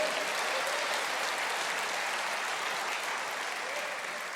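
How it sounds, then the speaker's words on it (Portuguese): Church congregation applauding at a worship service, a steady dense wash of clapping held at an even level throughout, swelling slightly at the very end. "Pode aplaudir"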